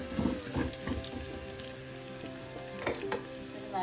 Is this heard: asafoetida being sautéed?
yes